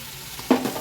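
Ginger-garlic paste with ground coriander and mint sizzles in an aluminium pot, soft frying hiss followed by a brief louder stir and sizzle burst near the end.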